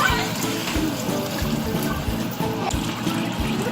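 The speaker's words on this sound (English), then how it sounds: "we're gonna add 2 cups of water." Two cups of water poured into a cooking pot of marinated vegetables for a somlaw machu kreung soup, a steady splashing trickle that runs continuously and fairly loud throughout.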